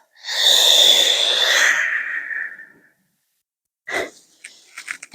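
A long, breathy exhale during a qigong breathing exercise, a soft airy rush lasting about two seconds and trailing off, followed by silence and then a few brief, faint breath and movement sounds.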